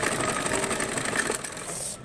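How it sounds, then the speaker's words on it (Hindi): A sewing machine runs steadily at close range, stitching a double seam on a blouse with a continuous fast whirring hum that stops abruptly at the end. "अब मुझे इसे डबल सिलाई चला लेना है इस पे"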